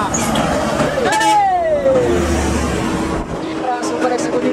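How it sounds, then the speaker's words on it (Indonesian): A long-distance Intra Jetliner coach passes by on a road in Sumatra, its engine loud and close with a pitch that sweeps down as it goes, ambient traffic noise around it and people talking in the background. "Terpantau bus Intra Bully Jetliner dari Pemadang Siantar tujuan Pekanbaru"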